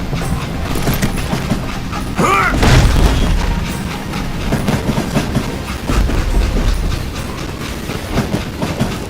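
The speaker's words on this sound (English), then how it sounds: "It was then that Jesse detached the express car from the rest of the damn train." A steam-era train rumbles along in the western shooter Call of Juarez: Gunslinger, loud rolling clatter and rhythmic wheel noise with a heavy boom near the start, sustained throughout.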